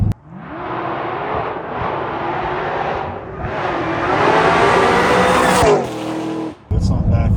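A car fitted with a supercharged LSA engine roars past in a flyby, the engine note climbing loudly as it approaches, then dropping away with tire noise and a brief lull before the engine rises again.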